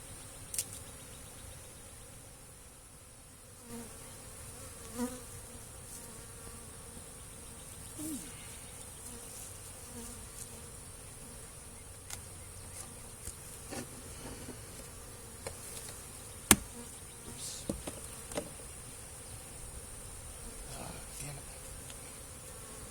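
A steady low hum of many honeybees buzzing close by in an open hive, with occasional faint knocks and clicks over the continuous drone.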